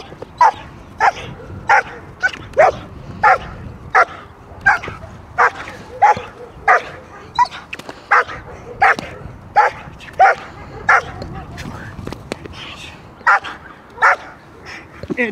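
A seven-month-old German Shepherd barks repeatedly and forcefully during a guarding exercise, close and loud, in a fairly regular rhythm of about one or two barks per second.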